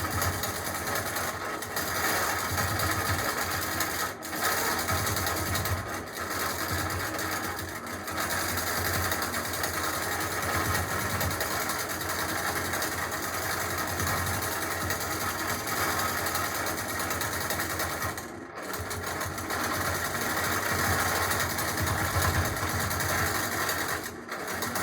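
Innova Pantovision T2 longarm quilting machine stitching a border, a steady close mechanical hum and rapid needle chatter that runs continuously, with a few brief dips and pauses along the way.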